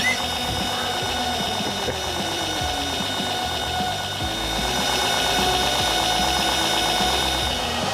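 Continuous harsh grinding of metal on a custom moped build, loud and steady throughout with a dense high-pitched whine and no talking.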